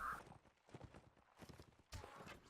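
Faint, irregular horse hoof clip-clops from a video game battle, uneven thuds under a busy, muffled background mix, with a sharper burst near the end.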